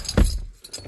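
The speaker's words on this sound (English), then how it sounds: "grab the keys" Car keys for a Mazda 3 being grabbed; a few brief metallic jangles and a soft thump close by, quick and irregular, with no talk.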